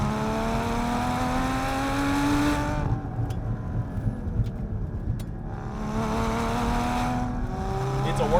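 A Sharkwerks-modified Porsche Cayman GT4 with a manual gearbox revs up hard in rising sweeps, eases off briefly between gears, then pulls again, loud and close from inside the cabin.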